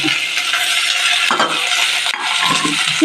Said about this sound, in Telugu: తిరగమార్చేస్తున్నాం తర్వాత టమాటాలు అన్నీ వేస్తాం